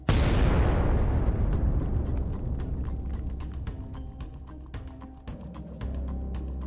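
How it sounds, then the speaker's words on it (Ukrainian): An armored vehicle hit by an FPV drone: a heavy blast followed by a long chaotic string of sharp pops and cracks from ammunition cooking off, irregular and overlapping, over a sustained low rumble. "Внаслідок вибуху він хаотично відстрілює боєкомплект."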